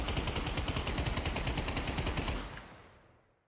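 A DP-28 light machine gun in the VR shooter Pavlov fires one long sustained burst of rapid, loud, dense shots, then a ringing decay as the firing stops near the end.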